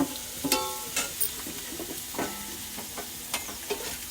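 Curry leaves dropped into hot oil with frying green chilies, crackling and sizzling in short bursts with a spoon stirring against the pan, close and steady.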